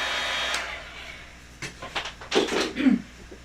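A hair dryer blows on acetate for a second or so, then cuts out, followed by scattered handling clicks and bumps, with a faint voice briefly in the background.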